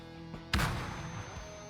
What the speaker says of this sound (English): I think that was a flashbang.